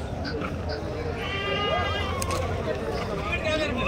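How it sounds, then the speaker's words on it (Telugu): Goats and billy goats bleat at a weekly Saturday livestock market, their calls rising over a steady crowd hubbub with voices talking throughout. "ఆ మేకలన్నీ"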